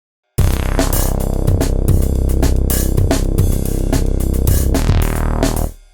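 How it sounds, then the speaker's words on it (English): A loud, pulsing electronic bass line from Bitwig with a steady rhythmic pattern of punchy low notes, playing alone for several seconds before cutting off. "I made a bass line. Originally sounds like this."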